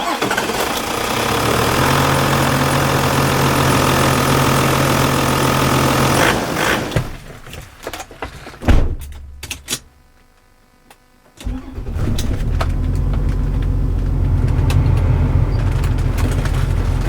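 A Toyota Land Cruiser 100 with the 1HD-FTE turbo diesel engine runs with a loud steady clatter up close, drops to a quieter, broken stretch with a brief near-silence, then roars back to a steady running note.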